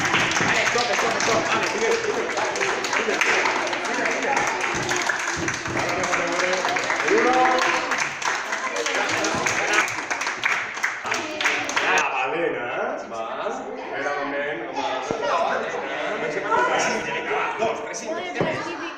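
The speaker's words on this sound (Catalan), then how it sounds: "Rebrem amb un fort aplaudiment directament a l'equip dels dofins!" Audience at a children's game workshop applauding the dolphins team: a sustained patter of clapping under lively chatter and an adult voice, fading into scattered claps and talk.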